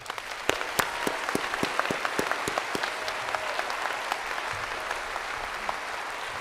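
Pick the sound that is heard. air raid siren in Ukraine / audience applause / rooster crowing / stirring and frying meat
audience applause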